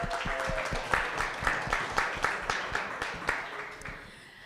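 An evening gathering at a Texas gun range venue applauds its hosts with a modest round of claps, a small group whose individual hand claps stand out as close, rhythmic pops before tapering off.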